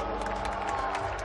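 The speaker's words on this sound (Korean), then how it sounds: "여러분, 다시 한 번 큰 박수 부탁드리겠습니다." Audience applause and crowd noise fill a festival award ceremony on stage, a dense, steady wash of clapping and murmuring throughout.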